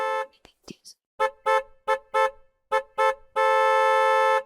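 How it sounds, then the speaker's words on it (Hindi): A car horn honks repeatedly in short, insistent blasts, then holds one long loud blare at the end; close and piercing. "इतने ऊंचे हॉर्न मेरी गली में।"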